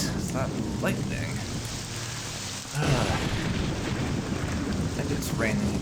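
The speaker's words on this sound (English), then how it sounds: "And it's raining again." Dense, steady rain falls in the Morrowind video game, a constant loud hiss with low rumbling, a brief lull, then the downpour surging again.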